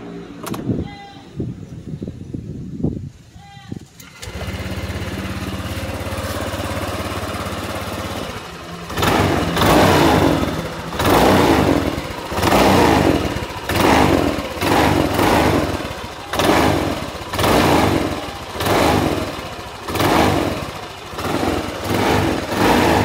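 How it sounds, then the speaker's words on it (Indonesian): A Honda Vario 150 scooter with about 93,000 km on the odometer, running on cooking oil in place of engine oil, is started and then idles close by in a steady rhythmic putter. Revs pulse up and down several times, and a voice speaks briefly beforehand. "Kemudian kita coba nyalakan dulu mbak, biar kelihatan suaranya bagaimana setelah berapa ribu kilometer ini belum saya ganti olinya mbak."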